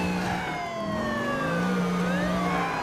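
A police car siren in GTA IV with the LCPDFR mod wails continuously, its pitch sweeping up and down in layered tones over steady traffic and engine noise, loud and close.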